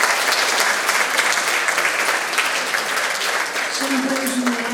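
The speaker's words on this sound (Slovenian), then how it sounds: "en aplavz za vzpodbudo." An audience at a school awards ceremony breaks into loud, dense applause that holds steady throughout, with a voice briefly audible near the end.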